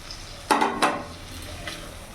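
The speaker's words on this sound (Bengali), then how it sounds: "এবার ভালো করে নাড়াচাড়া করে নেব।" Loitta (Bombay duck) fish added to a pan for frying and stirred, giving two short close scrapes and clatters against the pan at the start, then a faint low sizzle and one softer scrape.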